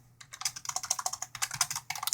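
Quick bursts of keystrokes clatter on a computer keyboard as a sudo command is typed, close and fairly quiet, with short pauses between runs of keys.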